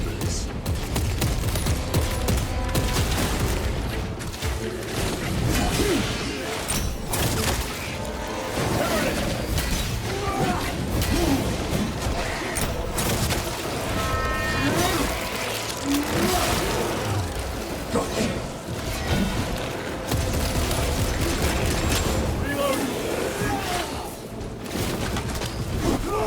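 Dense, sustained gunfire from turrets in the video game Warhammer 40,000 Space Marine 2, with rapid automatic bursts, crashes and engine rumble layered loud and continuous throughout.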